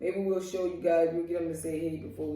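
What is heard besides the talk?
None of the usual background noises is heard.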